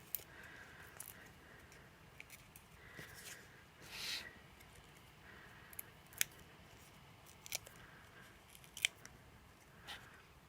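Scissors snipping paper at a Christmas card craft table, a handful of brief, crisp snips spaced apart over a quiet room background, fairly faint and with no one talking.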